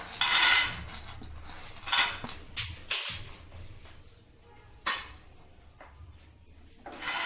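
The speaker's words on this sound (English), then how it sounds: "Roast the peanuts for choco peanut butter." Peanuts being roasted and stirred in a pan for chocolate peanut butter, heard as irregular scraping and rattling clatters of a utensil against the pan, loud bursts separated by quieter gaps, with no talking.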